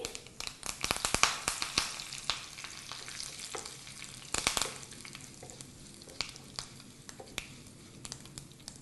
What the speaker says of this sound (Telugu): ఇవి చిటపట్లాడుతుండగా మనం కరివేపాకు రెమ్మలు వేసుకోవాలి